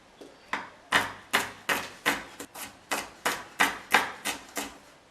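A knife chops shallots on a cutting board in a home kitchen while a simple snack is prepared: about a dozen crisp, close, evenly spaced strokes with no talking.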